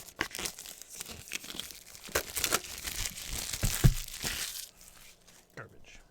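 Chromecast with Google TV box packaging sliced open with an X-Acto blade, giving scattered crinkling, tearing and crunching of cardboard and plastic close by, with a voice talking over parts of it.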